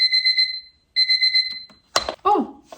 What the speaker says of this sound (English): Okay, let's set my first alarm.